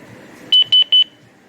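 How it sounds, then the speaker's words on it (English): An Anytone AT878UV handheld radio gives three short, evenly spaced high-pitched beeps, clear and close, against a faint background hiss. "I gotta learn what those beeps mean"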